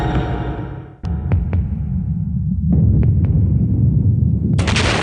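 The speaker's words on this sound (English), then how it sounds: "An explosion tears through the torpedo room of the giant Russian submarine Kursk." A dramatized explosion in the torpedo room of the Russian submarine Kursk: several sharp cracks and bangs over a heavy, continuous low rumble that swells and persists, loud and booming.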